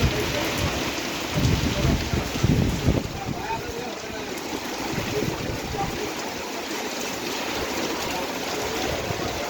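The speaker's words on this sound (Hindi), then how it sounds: "वर्षा केते जोर जोर होउची" Heavy rain pours down over an open market with rumbles of thunder, a steady loud wash of downpour that swells early on and keeps drumming throughout.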